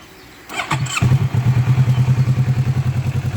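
A 2017 Kawasaki Ninja 650 KRT motorcycle engine cranks and catches with a brief clatter, then settles into a loud, lumpy idle with a steady throbbing pulse.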